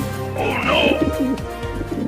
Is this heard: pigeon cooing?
yes